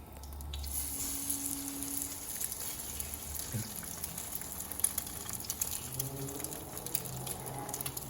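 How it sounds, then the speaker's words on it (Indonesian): Bread dipped in egg fries in a pan with a little oil, giving a steady, faint hiss and crackle throughout, with a few soft clinks of cookware. "kita goreng di atas wajan dengan minyak sedikit saja ya."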